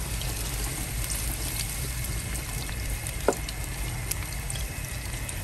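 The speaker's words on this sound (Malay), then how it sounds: "right now we're gonna put the onion, put a bit of oil lah." Onion frying in a bit of oil for sambal, a dense steady sizzle and crackle heard close up with one brief clink partway through.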